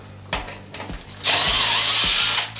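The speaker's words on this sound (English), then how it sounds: "So we'll just take the screws out." A power drill backs screws out of a bathroom vanity light fixture. A few short whirring bursts come first, then a longer continuous run, close and loud, with no talking.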